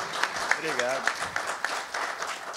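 A crowd applauding with steady clapping, while a voice speaks briefly over it.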